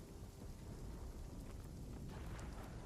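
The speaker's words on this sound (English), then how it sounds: "Turns out you can be struck by lightning while you are flying." Thunder rumbling through rain during a lightning strike in the video game Dragonwilds, a dense, wide roar of falling rain with low thunder, steady and fairly faint.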